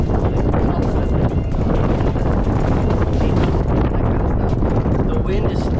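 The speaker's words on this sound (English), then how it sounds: "the wind is still kicking." Strong wind on a golf course at Yocha Dehe, Cache Creek, California, buffeting the microphone in a steady, loud, unbroken roar that drowns out everything else.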